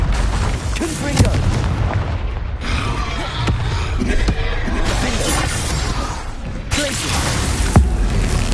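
Booming fire-spell blasts from the Confringo curse in Hogwarts Legacy burst out amid dense combat noise, with several loud explosive hits spread across the clip and a brief voice shouting in between.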